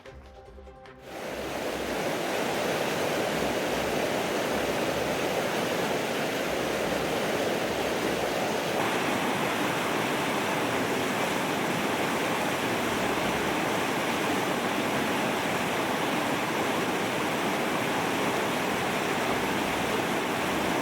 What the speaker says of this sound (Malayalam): അതിരപ്പള്ളി വെള്ളച്ചാട്ടം അവിടെ നിറഞ്ഞൊഴുകുന്ന സമയത്താണ്